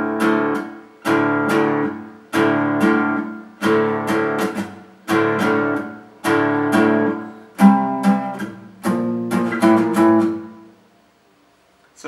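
Pre-chorus riff from a song played on guitar: repeated chugging bursts of chords in a steady rhythm, close and loud, opening into ringing chords near the end before a pause.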